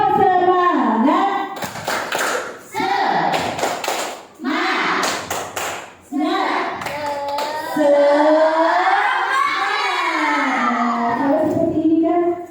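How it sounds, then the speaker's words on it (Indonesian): A group claps out a rhythmic spirit cheer in bursts of quick hand claps, loud and close, interleaved with chanted voices. "Tepuk semangat."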